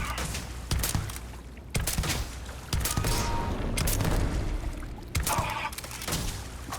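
Rifle gunfire from the space game Starfield fired with a glitched weapon, loud bursts of several shots in quick succession with short gaps between them, over a steady rumbling game backdrop.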